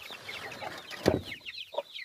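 Chickens and a rooster, including Nagasaki and bantam crossbreed birds, cluck in quick, repeated calls nearby, with a louder squawk midway and a fainter call near the end.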